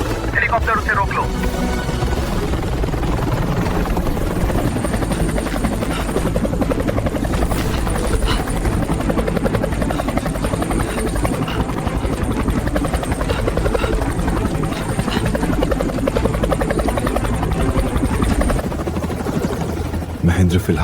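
A helicopter in an Indian spy action thriller roars loudly and continuously with a pulsing rotor throb, mixed with intermittent gunfire-like bursts, while voices speak over it.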